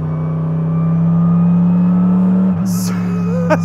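A Mercedes-AMG GT3 race car on track gives a steady, loud engine drone that holds a constant pitch, then dips and shifts near the end with a brief higher whine and a faint voice.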